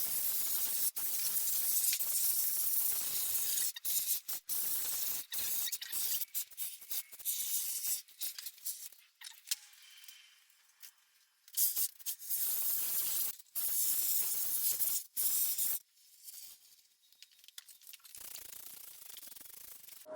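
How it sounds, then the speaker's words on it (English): Great Stuff expanding foam sprays from a can as it is worked into rockwork for a Halloween haunted reef facade. Close, steady hissing and rubbing bursts come in uneven stretches, separated by short silences. "we're just going to start laying up the great stuff foam and work this in"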